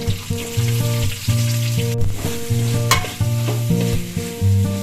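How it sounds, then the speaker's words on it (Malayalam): Finely chopped onions, added after other ingredients have browned, sizzling in hot oil in a pan for a tapioca and beef biryani, with a steady frying hiss and rhythmic stirring scrapes close up, loud and continuous, no voices. "ഇനി നമ്മള് ചെറുതായിട്ടരിഞ്ഞ സവാള ഇടാൻ പോവാണ്."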